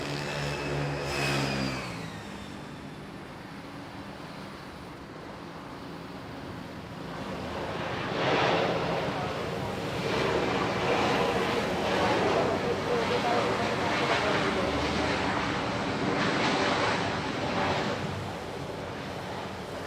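Rain-soaked morning at Manila International Airport as an airplane lands on runway 06, a broad, swelling engine roar building to a loud sustained rush before easing slightly, with speech heard early on.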